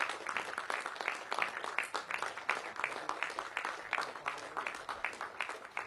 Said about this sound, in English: You can hear each individual clapping here.